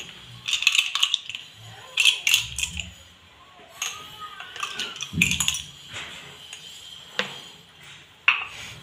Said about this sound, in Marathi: तर मी आता इथं बर्फ घेतलेला आहे, तर हे बर्फ टाकून घेते